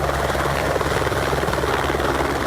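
A Polícia Civil helicopter flies overhead with a steady, loud rotor and engine roar that stays unbroken throughout.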